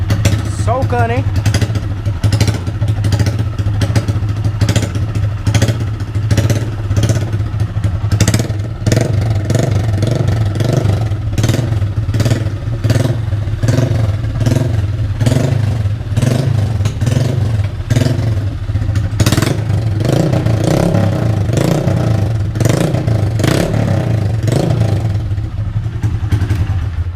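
A motorcycle engine runs loud and continuous with a bare exhaust pipe and no tip fitted, revving repeatedly over a steady rumbling idle, close up for the whole stretch.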